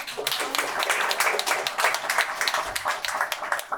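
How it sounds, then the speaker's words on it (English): A school audience applauds for a favorite teacher at a student recognition event, with dense clapping sustained for about four seconds as a steady, fairly close wash of claps. "we gotta give her a round of applause, please"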